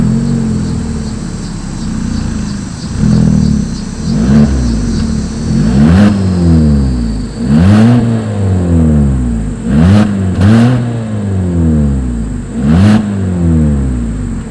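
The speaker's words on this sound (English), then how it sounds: "As always, here is that exhaust clip." Exhaust note of a 2020 Hyundai Kona AWD crossover with a single outlet, heard close as a steady idle followed by several sharp revs that rise and fall back, with no talking.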